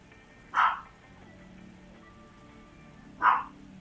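A pet dog barks twice, each a short sharp bark about three seconds apart, at moderate distance against a quiet indoor room hum during a live stream.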